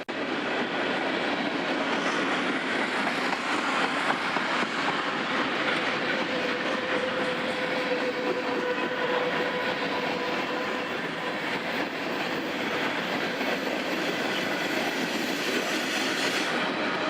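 A freight train with a distributed power unit rolls steadily past near Dalton, Georgia, on the main line. The loud, continuous rumble of wheels and cars carries clickety-clack rhythms and a thin wheel squeal throughout.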